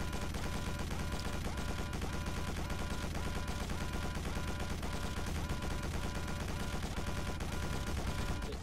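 Enemy gunfire in the first-person shooter Quake 4, a dense, loud, continuous barrage of rapid automatic shots and combat noise with no letup and no voices.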